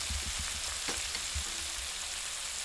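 Fresh green peas fry with spices in a pan for village-style cooking, giving a soft, low-level sizzle with a few light stirring knocks and scrapes, no voices.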